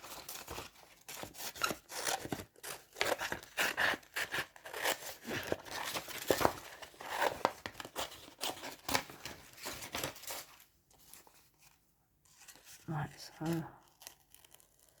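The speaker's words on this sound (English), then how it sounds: "Cutting paper is one of the things I really enjoy doing." Scissors snip and slice through paper while making an organic abstract collage, giving close, irregular crisp cuts and rustling paper handling, with a voice talking intermittently over the work.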